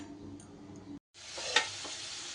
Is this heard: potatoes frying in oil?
yes